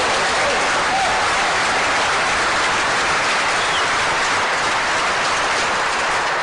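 Large crowd applauding at a real tennis match during the 2006 Real Tennis World Championship, a dense, steady wash of clapping sustained throughout, fairly loud and close.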